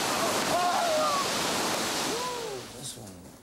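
River surfing wave with a steady loud rush of churning water throughout, gradually easing toward the end, with faint brief voices under it.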